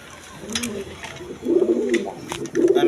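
Pigeons of a breeding pair coo in short, soft repeated phrases, close by in a loft, with light background noise and faint voices around them.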